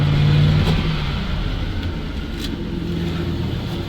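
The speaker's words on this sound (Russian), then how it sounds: "Ну-ка, Даня, нажми газ в пол." A ZIL truck engine revving hard as the gas pedal is floored, a steady loud low rumble that holds throughout with a slight swell near the start.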